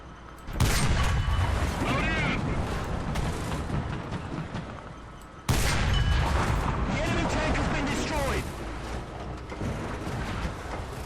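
An Sd.Kfz. 234/2 Puma armored car's cannon in War Thunder fires two loud, booming shots several seconds apart. Each shot is followed by a long rumbling decay under steady engine and battle noise.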